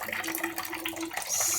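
Sparge water is poured for a home brew of a Belgian saison with raspberries, a soft, quiet stream of running liquid splashing steadily over a couple of seconds.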